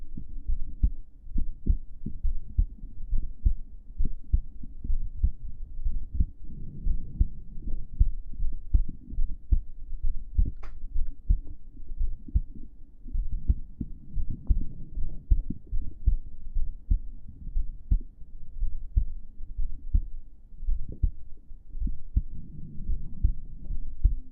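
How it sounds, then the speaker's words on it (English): Steady, soft heartbeat thumps from a cozy live ASMR stream, a continuous close lub-dub pulse repeating evenly throughout with a low, muffled throb and no talking. "The heartbeats are great"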